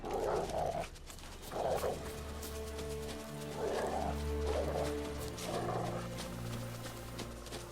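A dog in The Witcher 3: Wild Hunt gives several short sniffing and huffing bursts at irregular intervals over a steady low game ambience with music, faint and without speech.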